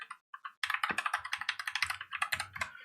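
Fingers typing on a computer keyboard, a few isolated taps and then a quick run of crisp clicking keystrokes, close up with no speech.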